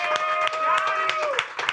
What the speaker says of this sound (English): let's clap it up for Sadat X